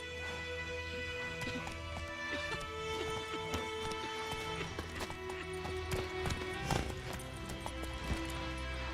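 Horse hooves galloping in The Witcher 3 video game, a steady rapid clip-clop of hoofbeats running under dense game music and ambience, moderately loud throughout.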